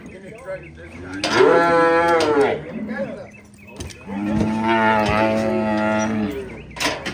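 Calves mooing on a ranch while cowboys work the herd for ear tagging, two long loud bawls close by, with faint voices in the background.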